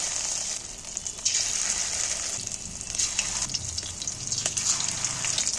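Batter-coated fish pieces, dipped into hot oil one at a time, fry with a loud continuous hiss and crackle that swells and eases as each piece goes in.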